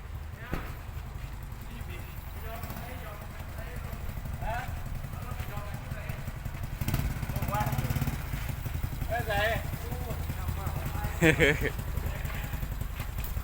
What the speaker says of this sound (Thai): รถตัก นะครับรถตักอยู่ฝั่งนี้